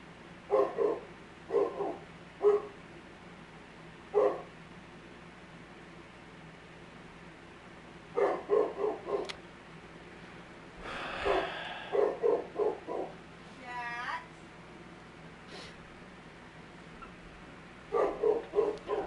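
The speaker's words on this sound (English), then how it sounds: "That barking's gotta stop." A dog barks in short, repeated clusters of sharp woofs separated by quiet gaps, fairly close and loud over a low background hum.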